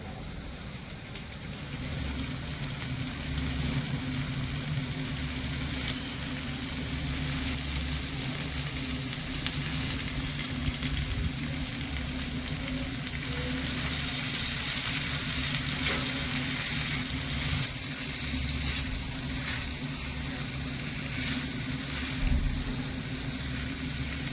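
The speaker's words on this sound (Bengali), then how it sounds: "এবারে এই সবজিগুলো আমি এখানে দিয়ে দেব আর হালকা করে একটু ভেজে নেবো" Carrot, tomato and capsicum fry lightly in a pan with a dense, continuous sizzle, steady and close throughout, with occasional faint stirring scrapes and no voices.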